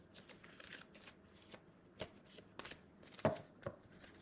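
Tarot cards are shuffled for a card reading, producing soft riffling and tapping bursts with a few sharper snaps, close but faint in a quiet room.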